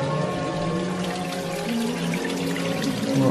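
Water pouring steadily at a themed folly garden attraction, a constant close rushing wash with no voices.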